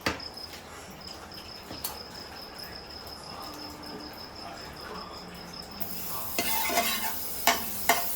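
Chapati roasting on a hot pan with butter, a soft continuous sizzle with light scraping, crickets chirping steadily in the background and a louder sizzling burst near the end.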